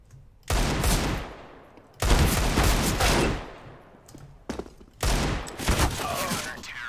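Gunfire in a competitive online shooter match: three loud bursts of rapid shots, each fading before the next, with a brief sharper crack between them.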